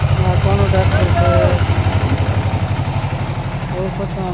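A tractor engine idles close by with a steady low, pulsing chug throughout, while people talk over it.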